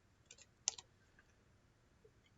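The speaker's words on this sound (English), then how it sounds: "I'm going to type it in here." A few quiet key clicks from numbers being typed on a computer keyboard, a short cluster of taps with one sharper press, faint against a low background hum.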